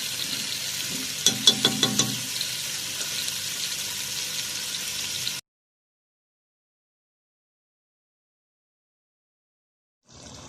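Chicken karahi with tomatoes cooking in a pan, a steady sizzle and frying hiss with a few brief stirring clatters, then cutting to silence before sizzling briefly returns at the end.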